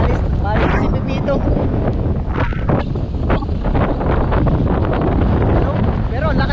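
Strong wind buffets the microphone outdoors in loud, continuous gusty rumbles, with people talking over it throughout.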